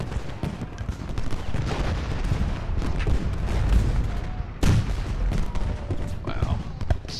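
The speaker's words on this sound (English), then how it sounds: "There's a lot of cannons there." Cannon and artillery fire in the Civil War battle game Ultimate General Gettysburg, repeated booms and crackling volleys over a dense battle din, with a sharp loud blast midway and someone talking over it.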